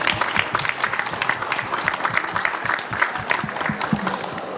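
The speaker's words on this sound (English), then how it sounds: "A big round of applause, please," Dense audience applause for conference panelists, a continuous even patter of many hands clapping at moderate volume that carries through the whole stretch.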